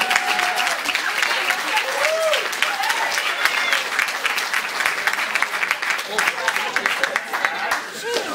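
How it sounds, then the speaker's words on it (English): Audience applause for the Somerville Highlanders JV hockey team at a season celebration, a dense steady roar of clapping from a sizable crowd throughout, with a voice and a few cheers above it. "a round of applause for JV Hockey,"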